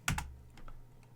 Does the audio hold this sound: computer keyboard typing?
yes